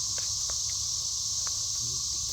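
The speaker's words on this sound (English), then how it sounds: "I've been hearing the cicadas." Cicadas drone steadily in the trees, a constant high-pitched buzz that runs through the whole moment, with a few faint knocks and low rumbles underneath.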